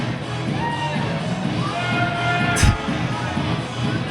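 A packed gym crowd at a 2008 East Providence at North Kingstown boys high school basketball game cheers and whoops over a player's dance moves, a loud steady roar with scattered shouts and a brief sharp peak near the middle.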